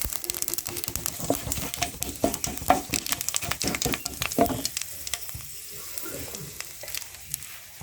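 Bay leaf, black cumin and panch phoron sizzling in hot oil for a bata fish curry, a loud crackling spit with quick popping bursts that eases off into a quieter fizz after about five seconds.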